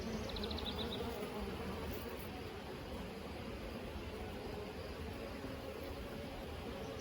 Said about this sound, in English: if I'm standing here, you can hear all the little bees.